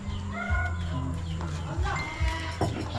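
Chickens cluck and call near a house where floodwater is still high, short repeated clucks close by with people talking over them.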